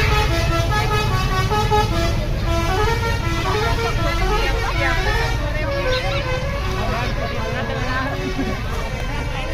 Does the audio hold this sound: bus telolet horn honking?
yes